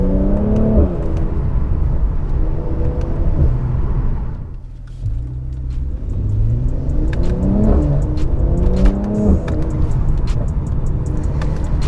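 A Mercedes C43 AMG facelift is driven hard, its engine revving up through gears in loud rising sweeps, dipping briefly, then climbing again in repeated accelerations heard from inside the car.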